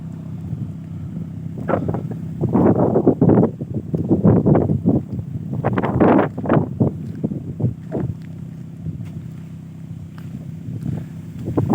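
Strong wind sweeps along the old Mittraphap road near the Lam Takhong dam at Pak Chong, beside a cornfield, buffeting the microphone in gusty, rumbling surges that rise and fall over a steady outdoor background.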